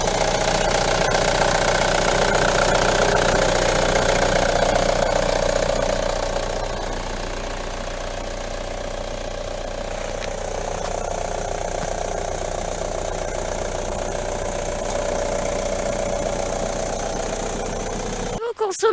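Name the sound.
car engine idling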